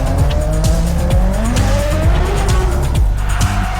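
Formula 1 race cars launch at the start of the 2006 Canadian Grand Prix in Montreal: loud, high engine notes that sweep up and down in quick, overlapping passes, with tyre squeal mixed in.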